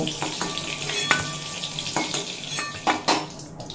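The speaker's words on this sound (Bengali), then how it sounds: "এরপর ওই তেলে দিয়ে দেব কাঁঠালের বিচিগুলো" Jackfruit seeds fry in hot oil left from frying pointed gourd, a close crackling sizzle broken by several sharp scrapes and clinks of a spatula against the pan.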